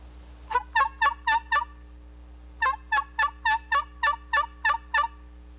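Turkey call used to imitate a wild turkey during a hunt: two runs of rapid, evenly spaced yelps, the first of four notes and the second of nine, close and clear over a low hum.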